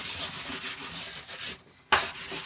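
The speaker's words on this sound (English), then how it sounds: "I'm just going to colour that in almost thicker with brown, a different brown" Brown coloured pencil rubs back and forth over paper as a drawing of the Egyptian pyramids is filled in, quick close strokes with a short pause before they resume.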